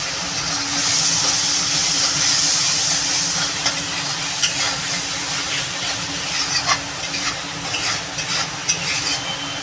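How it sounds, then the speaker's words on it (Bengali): Chili, salt and turmeric spice paste fries in oil for a Bengali pabda fish curry, giving a steady close sizzle and hiss with scattered stirring scrapes and pops throughout, no talking. "মশলাটা কষানো হোক ভালো করে মশলাটা দেখেন তেল ছেড়ে দিয়েছে"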